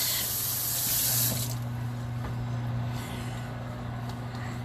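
Celery stalks rinsed under a running kitchen tap: a loud, close spray of water for the first second or so, then the flow continues more softly over a steady low electrical hum, with no talking.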